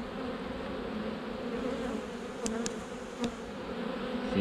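Honeybees fly around an open hive being prepared for wintering, worked without a smoker, making a steady continuous buzz with a few louder passes of bees near the ear, and no voices.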